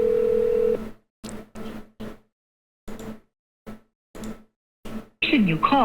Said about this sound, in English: I tried to confirm whether or not this was in fact Special Deputy Kelso by trying to call the Powell County Sheriff's Office